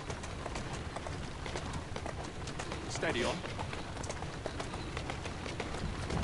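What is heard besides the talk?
horse hooves clip-clopping in the video game Assassin's Creed Syndicate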